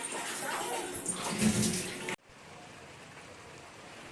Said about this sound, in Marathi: खूप पाऊस आहे जोराचा थांबेनाच झाला आहे